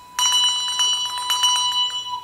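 A handbell rings repeatedly after adjustment, a series of close, clear strikes with a sustained shimmering tone that carries between hits and fades at the end.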